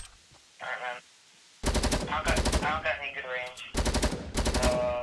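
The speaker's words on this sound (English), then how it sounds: "I see people. I'm gonna shoot at them." Rapid bursts of gunfire from a hunting rifle in the Fortnite video game ring out in loud repeated volleys, with a short voice or sound snippet just before the shooting begins.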